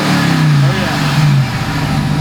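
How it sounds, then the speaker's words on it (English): A RAM 1500 TRX fitted with an AFE intake, heard from outside, revs loudly at close range, a rising engine roar with a thin supercharger whine riding over it. "You can definitely hear that supercharger whine a little bit more"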